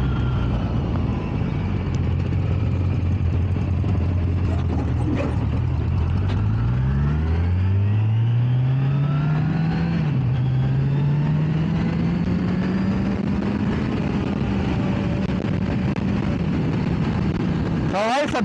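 Motorcycle cruising at 70-80 km/h recorded on a wireless mic with noise cancellation off: a constant heavy wind roar fills the sound, with a low engine drone whose pitch sweeps upward steadily through the middle of the ride.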